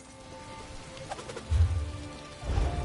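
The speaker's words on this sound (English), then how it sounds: "I could do without this damnable rain. It's been storming since we arrived," Game ambience of a rain storm in The Elder Scrolls Online, a soft constant patter of rain with a few low thumps and faint bird calls, no voices.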